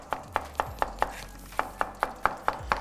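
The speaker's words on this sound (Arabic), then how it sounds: "البصل هم حبدي اخذه ناعم" A knife chops onion finely on a board for a salad, about twelve crisp, evenly spaced thuds at close range with no talking.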